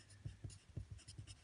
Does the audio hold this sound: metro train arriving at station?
no